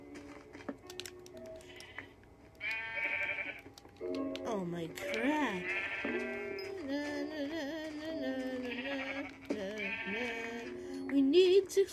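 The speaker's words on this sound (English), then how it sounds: "sheep." Sheep bleat repeatedly in a survival crafting video game, a string of wavering, nasal cries that runs under steady, excited talk from players.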